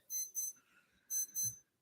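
An alarm clock sounding at 4 a.m. gives two pairs of bright, high beeps, close and fairly quiet, with short pauses between the pairs.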